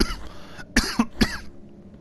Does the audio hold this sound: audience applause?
no